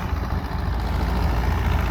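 A Polaris 525 four-wheel-drive tractor runs at a plow day with a steady, low diesel drone, continuous and fairly close, with no talk over it.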